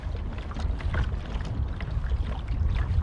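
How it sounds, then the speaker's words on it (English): A pedal kayak moves through sea water while trolling for bass, with a steady low rumble of water and wind and faint splashing, close and continuous with no voices. "Start pedalling, letting the line come off the bail arm."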